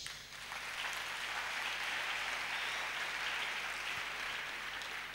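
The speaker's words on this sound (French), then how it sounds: "Acclamons Jésus." A church congregation applauds, steady dense clapping that fills the room from start to end, moderately loud and without talk.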